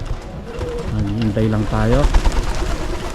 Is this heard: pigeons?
yes